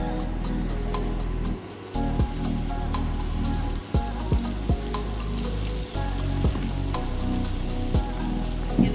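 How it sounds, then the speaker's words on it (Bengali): Chhana malpoa, cottage cheese pancakes, fry in hot oil with a steady dense crackle and sizzle, broken by a few louder pops and short dips as pieces are moved. "চারটা করে সব মালপোয়াগুলো আমি ভেজে তুলে নেব।"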